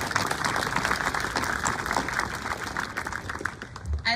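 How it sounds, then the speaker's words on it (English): Audience applause at a middle school graduation ceremony, a steady crowd clapping sustained at moderate volume for several seconds before tapering slightly at the end. "So please, again, one more round of applause for Julie."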